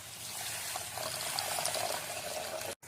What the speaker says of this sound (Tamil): இப்போ 1 கப் தண்ணி சேர்த்துக்கலாம்.